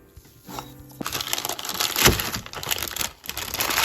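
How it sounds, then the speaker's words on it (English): Salt dough being placed into a plastic bag, with crinkling, rustling plastic close by, including a sharper crunch midway, heard alone without talk. "So we're going to go ahead and put it in a plastic bag."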